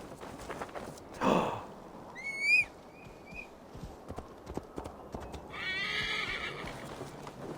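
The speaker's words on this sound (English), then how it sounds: "Horsey!" A horse in the video game Valhalla gives a few loud whinnies while its hooves clop in a steady walking rhythm, close by and clear, with light ambient noise between.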